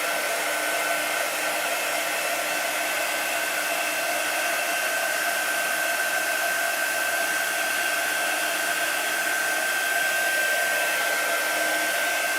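A heat tool blows hot air over chalk paste on a wooden riser, holding one steady, even whoosh with a faint whine throughout, close and alone with no talking.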